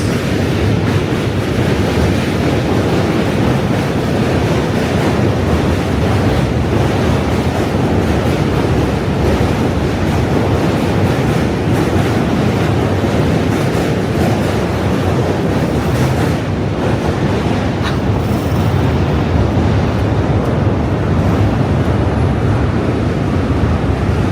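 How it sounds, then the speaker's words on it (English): A New York City subway or commuter train arrives as a steady, loud rush of rolling noise and wind-like roar, continuous for the whole stretch, with no talk over it. "New train coming at us."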